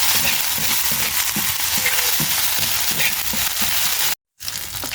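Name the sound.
onion and garlic frying while stirred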